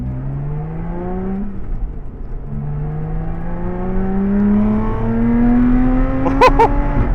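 A Lotus Exige Sport 410 accelerates on track at Anglesey Coastal circuit, its engine note climbing steadily from inside the car in two long pulls, loud and continuous, with a brief change in pitch between them and a short higher burst near the end.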